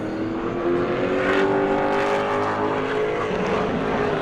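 A pro late model race car runs a qualifying lap at New Smyrna, its engine a loud sustained drone with a steadily rising pitch as it passes near, then holds at high revs; no talk over it.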